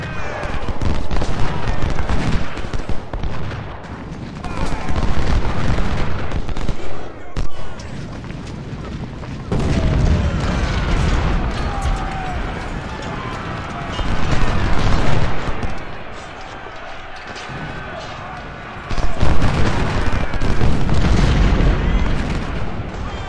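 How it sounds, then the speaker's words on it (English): Cannon and musket fire from a Civil War battle in the video game Ultimate General: Civil War, a loud, continuous rumble of booms and crackling volleys that swells and dips in waves over about twenty seconds. "along with some raking cannon fire."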